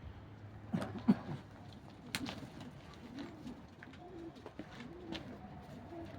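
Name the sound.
pigeons cooing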